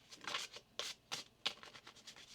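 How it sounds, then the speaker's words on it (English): Tarot cards are shuffled by hand up close, in a few quick riffling bursts separated by short pauses, soft and without speech. "One more shuffle."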